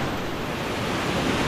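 Strong river current at Tibiao in Antique rushes in a steady, loud, broadband wash that fills the whole moment without pause.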